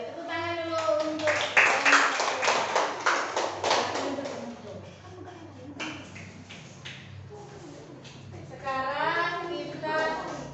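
A primary school class claps hands together in a classroom, a burst of fairly close rhythmic clapping mixed with children's voices, fading out before voices rise again near the end.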